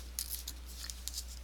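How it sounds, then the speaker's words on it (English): Double-sided tape backing being peeled and handled while assembling a pop-up photo album craft page: a few faint, quick crackly rips and rustles close by, over a steady low electrical hum. "remove the double-sided tape"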